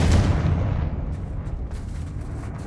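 The Confringo blasting spell explodes in the video game Hogwarts Legacy, a heavy close boom that opens loud with deep rumble and then decays into a lingering roar.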